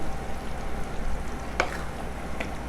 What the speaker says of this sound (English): Now I'm going to give this a good stir